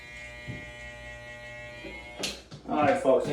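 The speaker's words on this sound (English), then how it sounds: "you just want to kind of give it the back end of the clipper there" An electric hair clipper buzzes steadily near the end of a haircut trim along the back edge, a continuous close hum with brief handling bumps and someone talking over it toward the end.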